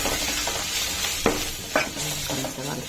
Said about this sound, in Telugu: అల్లం వెల్లుల్లి పేస్ట్ వేసి మళ్ళీ మిక్స్ చేసి 2 minutes మగ్గనివ్వాలి